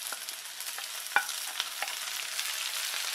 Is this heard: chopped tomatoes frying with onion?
yes